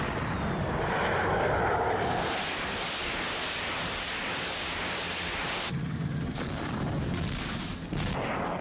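Russian fighter jets over Ukraine make a steady, loud roar of jet noise that fills the whole stretch, with a shift in tone partway through.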